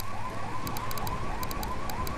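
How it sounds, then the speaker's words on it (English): An ambulance siren in Grand Theft Auto 3 wails in repeating rising sweeps, with rapid electronic chirps layered on top. Loud and up close, with no talking. "Random ambulance."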